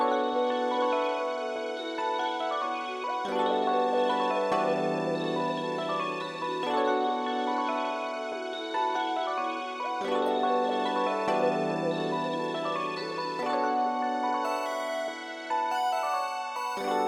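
A full synth arrangement of lush sustained strings and a bright lead melody layered together, playing continuously with steady chord changes and no talking.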